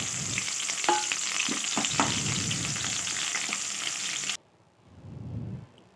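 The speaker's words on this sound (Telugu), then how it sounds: "ఆయిల్ అనేది వేడిన తర్వాత ఉల్లిగడ్డ ముక్కల్ని వేసుకొని వేయించుకోవాలి" Chopped onions frying in hot oil for a cauliflower curry, with a loud, steady close-up sizzle and crackle, a few stirring scrapes, and then a sudden drop to a much softer hiss near the end.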